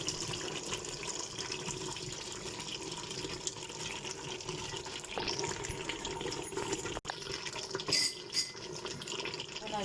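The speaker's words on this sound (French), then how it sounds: "je viens de mettre un verre d'eau." Water runs into a couscous pot on the stove for traditional Moroccan couscous, a soft continuous pour and splash over several seconds, with a few light clanks of the pot in between.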